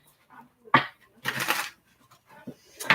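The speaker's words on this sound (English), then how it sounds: "This will be our last shuffle." Tarot cards being shuffled by hand, a few short riffling bursts and soft card slaps, close and fairly quiet, with faint breathy sounds in between.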